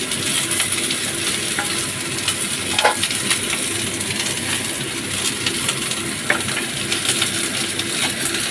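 Chopped onion sizzles in hot oil in a wok while being stirred for an egg paratha filling, a steady close frying hiss with occasional scrapes and clinks of the spatula, no voices.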